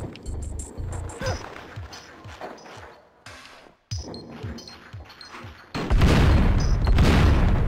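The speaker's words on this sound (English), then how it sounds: "Okay, another grenade." A grenade detonates in Oddworld: Abe's Oddysee with a sudden loud burst that swells into a sustained, roaring blast near the end, following several dull thuds and game sounds.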